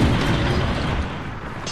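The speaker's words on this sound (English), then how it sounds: "Zero just got fired out of a cannon." A cannon fires in the video game Deception 4: Blood Ties, giving a loud, booming blast that fills the short moment with dense rumbling noise and fades slightly toward the end, with no talking over it.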